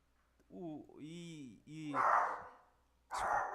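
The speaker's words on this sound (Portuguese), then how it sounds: "desculpem o meu cachorro aqui" A dog close by gives several short, high yelps and barks in quick succession, with rough vocal noise between them.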